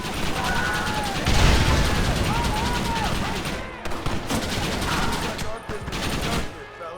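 Rapid, sustained Gatling gun fire in the Western video game Red Dead Redemption, a dense, loud broadband rattle that runs almost the whole time with brief dips, mixed with game sounds and some voice.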